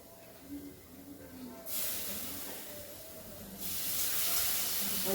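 Liquid poured into a hot pan of scorched chili sets off a loud, broad sizzle that bursts in suddenly, eases slightly, then surges again, with faint background noise and no one speaking.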